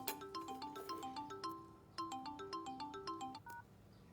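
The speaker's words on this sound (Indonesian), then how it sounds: "Ada telepon." A telephone rings with a bright electronic melody of quick repeated tones, playing in two phrases with a brief pause between, fairly quiet and with no talking over it.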